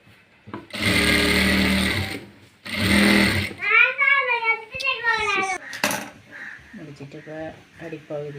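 A sewing machine stitches an A-line frock in two loud, steady bursts of about a second and a half each, followed by a voice and speech running over quieter handling.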